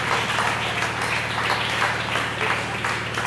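An audience at a first-anniversary entrepreneurs' event applauding, a dense steady wash of many hands clapping in a hall, moderately loud and continuous, with a faint low hum beneath.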